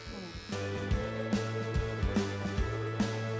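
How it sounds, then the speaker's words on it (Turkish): Electric clippers trim a man's beard with a close, steady buzz cut by repeated short strokes. Someone talks over the buzzing. "Kadınlar size söylüyorum kocanızı tıraş etme zamanı geldi"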